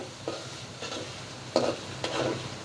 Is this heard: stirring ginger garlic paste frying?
yes